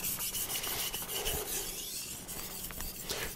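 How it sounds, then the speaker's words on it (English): A low-cost kitchen knife is ground against a sharpening stone with pressure on the tip, giving a steady, close abrasive rasping and scraping that keeps going without a break and with no talk. "I have the tip down and I am putting pressure on the tip only"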